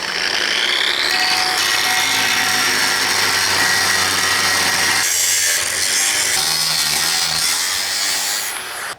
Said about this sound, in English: we're ready to grind it